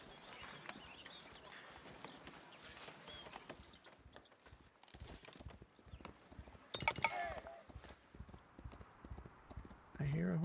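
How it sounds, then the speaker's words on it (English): Horse hooves clip-clop steadily in the city-building game Foundation, a rhythmic walking gait that grows a little louder as it approaches, with a neigh near the end and talking over much of it. "I hear a horse coming."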